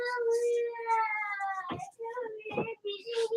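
A cat meows repeatedly in long, wavering, drawn-out cries, close and fairly loud in a home kitchen.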